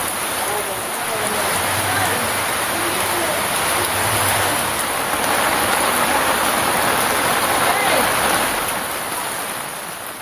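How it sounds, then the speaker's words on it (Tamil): Heavy rain pours down in Nagapattinam district, a steady, loud, broadband hiss and roar that holds for the whole stretch without a break. "நாகை மாவட்டத்தின் பல்வேறு பகுதிகளிலும் கனமழை."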